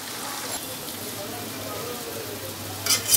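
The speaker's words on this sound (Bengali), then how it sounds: "এখন আমি ভালো করে নাড়া দিয়ে দিতেছি" Mixed vegetables with turmeric fry in a pan, a steady close sizzle like light rain that continues throughout, with a couple of sharper scraping stirs at the very end.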